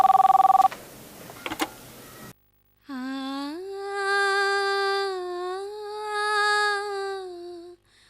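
A phone rings unanswered: a short burst of steady electronic beeps, then after a brief gap a loud, close melodic ringtone that holds and wavers for several seconds before cutting off.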